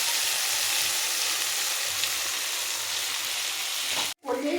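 Ground coriander-cumin spice mix hitting fried onions in a hot pan, a dense continuous sizzle heard close up that cuts off abruptly near the end before a brief clatter.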